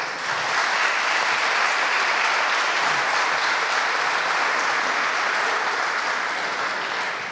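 At a conference on Middle East Christians, an audience gives sustained, dense applause for Valérie Boyer, a loud, even wash of clapping that holds steady and eases slightly at the end.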